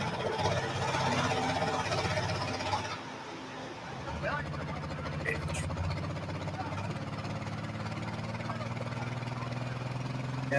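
A pulling tractor at a Badger State Tractor Pull event in Utica, Wisconsin, roars at full power, a loud, dense, sustained engine din that dips briefly before surging again, with an announcer talking over it.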